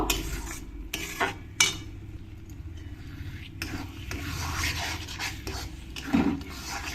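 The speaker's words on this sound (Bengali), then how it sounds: "মিশিয়ে নিয়ে আমি মশলাটাকে ভালো করে কিছুক্ষণ কষিয়ে নেব" Masala with chilli powder fried and stirred in a pan for chicken bhuna: a steady low frying hiss broken by a few sharp spoon scrapes and clinks against the pan.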